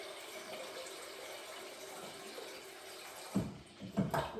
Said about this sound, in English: So all I'm going to do is pop the hot water